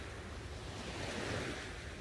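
Gentle surf rolls onto a calm ocean shore in an even, unbroken wash of foamy hiss, swelling faintly midway, with light wind and no voices.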